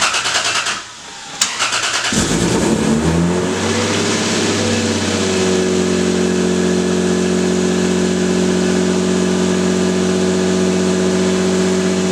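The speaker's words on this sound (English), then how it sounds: "The car's definitely louder." A Lexus SC300's 2JZ engine with new headers cranks and fires up, then settles into a loud, steady idle with a deep rumbling tone, close by and without any voices.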